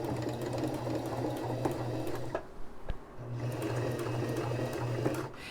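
Sewing machine stitching a blind hem, a steady rapid mechanical whir that pauses briefly and then resumes, close and moderately loud.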